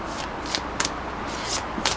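Tarot cards are shuffled by hand in a few quick riffled bursts, close and crisp over a soft steady background.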